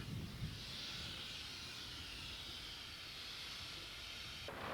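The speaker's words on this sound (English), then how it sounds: "This is the only Brooks steamer in England." A Brooks steamer steam car gives off a soft, continuous hiss at low level that holds steady throughout, then shifts abruptly right at the end.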